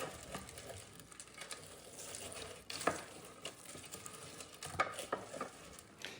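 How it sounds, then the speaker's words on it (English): Nut party mix is stirred in a bowl, pieces scraping and rattling with soft irregular rustles and occasional sharper clinks of the spoon, close and fairly quiet, with no talk. "I'm just stirring everything really well so all of the pieces are coated"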